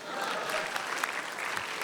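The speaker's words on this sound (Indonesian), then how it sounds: "nah sekarang boleh tepuk tangan untuk saya." An audience at a stand-up comedy show claps for the comedian, producing a short, dense burst of applause that stays even and moderately loud throughout.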